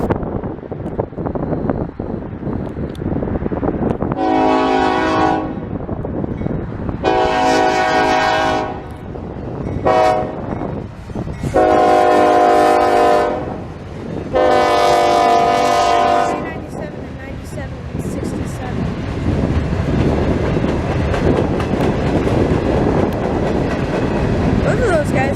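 A freight train rumbles past close by, sounding its horn in several long blasts with short breaks between them, amid wind buffeting the microphone.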